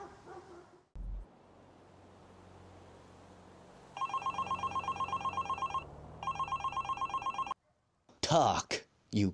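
Telephone in a GTA V action scene rings in steady repeated trilling bursts that go unanswered, preceded by low background rumble and followed by short loud voice-like sounds at the end.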